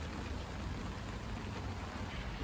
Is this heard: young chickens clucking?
no